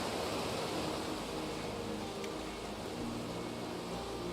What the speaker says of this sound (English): That's a shallow river at the bottom of a waterfall.